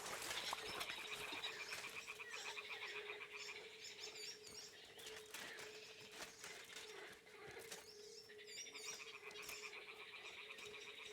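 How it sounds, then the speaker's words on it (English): Toads croak in a dense, continuous chorus in the video game Kingdom Come: Deliverance 2, mixed with chirping birds and ambient wildlife that stays at a steady level throughout. "Okay, I can hear the toads"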